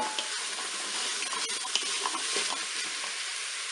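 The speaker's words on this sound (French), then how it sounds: "Je mélange" Carrots and bolognese are stirred in a Cookeo electric cooker, a steady hiss of frying with soft intermittent scrapes of a utensil against the pot, close and fairly quiet.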